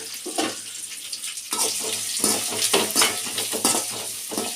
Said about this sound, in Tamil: வெங்காயம் போட்டாச்சு இனிமேல் இந்த வெங்காயம் வந்து வதங்கட்டும்